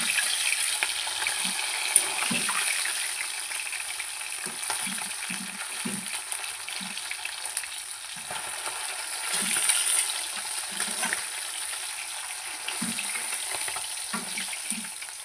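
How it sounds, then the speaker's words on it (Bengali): Fish fries in a pan with a continuous loud hiss and sizzle, dotted with irregular low pops and spatters throughout. "তোমরা দেখতেই পাচ্ছ মাছ কিন্তু আমার ভাজা হয়ে গেছে"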